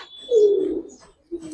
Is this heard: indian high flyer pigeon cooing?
yes